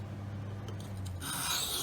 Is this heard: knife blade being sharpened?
yes